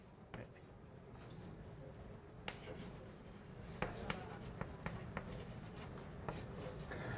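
Chalk writing on a blackboard during a university calculus lecture, faint scattered taps and short scratchy strokes over a quiet room hum, with no speech during the writing.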